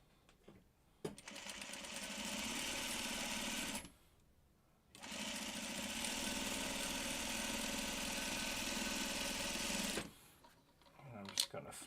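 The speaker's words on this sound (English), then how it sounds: "we're going to sew 1/4 inch away on both sides of that diagonal line" A sewing machine stitches quilt block seams for a Delectable Mountains block in two long steady runs with a short stop between them, the motor whirring close and even.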